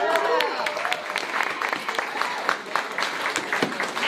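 An audience at an arts showcase finale at The Gasworks claps for a photography artist, a short burst of crowd applause with whoops and voices mixed in, loud at first and tapering slightly.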